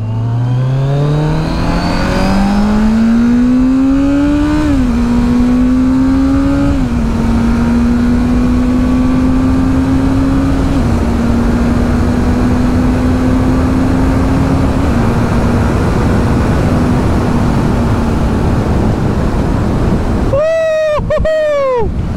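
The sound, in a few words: modified motorcycle engine and exhaust sound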